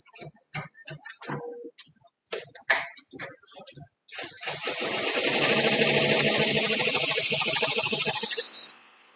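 An embroidery machine begins stitching a monogram on a beach bag for collecting sea shells, starting after a few seconds of clicks and brief talk and then running as a loud, steady, rapid mechanical whir through most of the clip.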